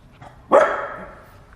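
A single sharp bark from a four-month-old puppy, close and loud, with a short fading tail and quiet room tone around it.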